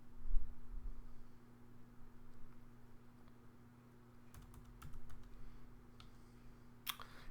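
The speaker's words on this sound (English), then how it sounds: "And I'm clicking on enter," Computer keyboard typing in bursts of quick clicks, with an Enter key pressed during SprayMaster invoice data entry, faint and close over a steady electrical hum, with no voices.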